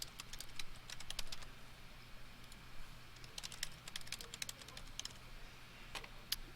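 Light, fairly quiet tapping of fingers on a computer keyboard while a caption is entered, irregular clusters of keystrokes with brief pauses, no voices over it.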